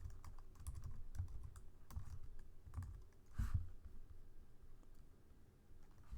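Fingers type a folder name on a computer keyboard, a steady run of soft key clicks with short pauses, close and moderately quiet, with no voices.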